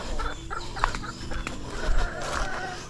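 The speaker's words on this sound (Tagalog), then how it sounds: "Yung aming mga manok." Hens cluck in short, scattered calls against a busy farmyard background, fairly close.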